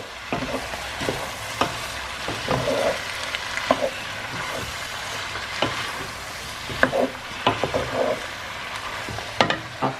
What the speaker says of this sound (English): Fresh garlic and ginger paste. That much. About a tablespoon. And I can fry it with this a little bit.